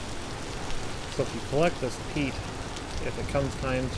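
Steady rain hisses throughout in the video game Vintage Story, a constant even patter under someone talking continuously over it.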